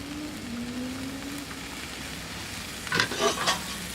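Olive oil hitting a hot pan while cooking blackened salmon gives a steady, close hiss of sizzling, with a low hum beneath and a brief burst of louder crackling and stirring near the end.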